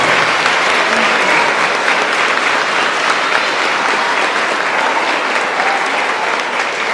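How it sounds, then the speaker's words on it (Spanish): A church congregation claps for the children attending Sunday Mass, loud sustained applause from many people filling the space evenly, with no voice over it. "Vamos a darle un fuerte aplauso a todos los niños que vinieron a misa."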